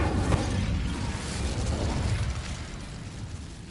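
The Incendio fire spell in Hogwarts Legacy bursts out as a loud, roaring whoosh of flame with a sharp onset, then fades into a sustained rumble that slowly diminishes.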